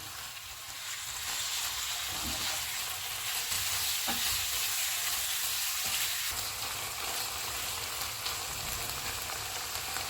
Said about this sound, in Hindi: कीमा डालेंगे। चूल्हे को फुल रखेंगे और कीमे का कलर चेंज होने तक पकाएंगे।